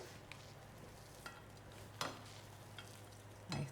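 A large Mexican-style omelet with corn chips sizzles steadily in a pan after the flip, with soft stirring scrapes now and then over the constant frying hiss.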